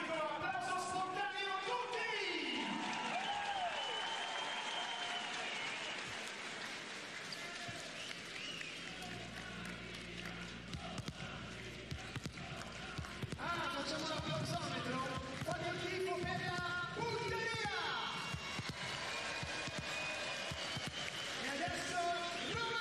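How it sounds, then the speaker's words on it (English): Crowd applause and cheering fill an arena during a Bulgaria versus Romania volleyball match at EuroVolley 2023. It is continuous and loud, with bursts of crowd noise, whistles and the thud of balls. "While the applause continues,"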